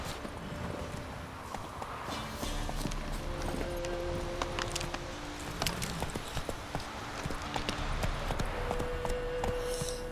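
Horse hooves clip-clop in The Witcher III: Wild Hunt, an irregular run of hoof strikes over the game's ambient music tones, moderately loud, with no talk over them.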